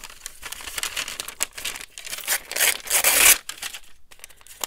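Paper is crumpled by hand for a stamped collage texture, giving loud, dense crinkling and crackling bursts that swell near the end, with no talking.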